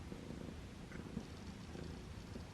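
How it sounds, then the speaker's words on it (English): A contented cat purrs up close, a soft, low, continuous rumbling purr that stays faint and even, with no voices. "And purring."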